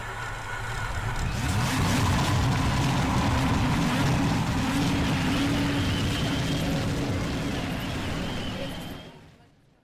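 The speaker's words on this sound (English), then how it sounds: "Drivers, start your engines." Race car engines roaring together in an Indy-style racing video game at Watkins Glen, a loud sustained dense engine drone that holds steady for several seconds, then quickly fades out.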